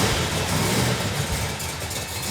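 A 1968 Plymouth Road Runner V8 fitted with a big cam runs steadily, a loud, close, continuous rumbling idle with a choppy, lopey pulse and no talk over it.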